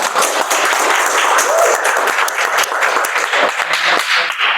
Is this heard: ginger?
no